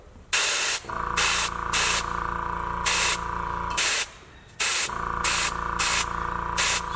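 Spray gun laying a heavy gelcoat top coat over metal-flake glitter on a bass boat spot repair, hissing in about eight short, loud, close bursts with brief pauses over a steady low hum.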